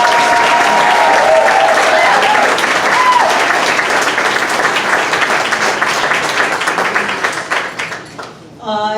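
Applause from an audience at a Nevada progressive awards ceremony, dense and steady for most of the nine seconds, loud and close, fading out near the end with a brief voice or tone at the tail.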